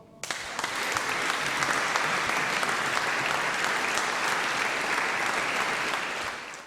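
A concert audience gives a men's choir long, even, full-bodied applause that starts abruptly, holds steady for several seconds, and tails off at the end.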